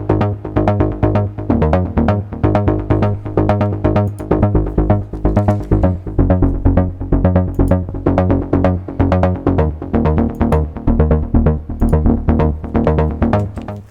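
A loud, throbbing synth bass pulses in a fast repeating rhythm, thick and effected, running continuously without any voices.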